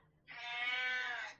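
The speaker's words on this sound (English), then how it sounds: "That's the cat. Cat wants attention." A house cat gives a single drawn-out meow for attention, a clear, fairly close wavering cry lasting about a second in an otherwise quiet room.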